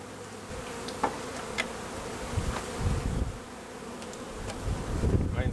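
Honey bees from a newly installed package hive buzz steadily at close range, with individual bees zipping past and a few soft knocks and handling sounds mixed in.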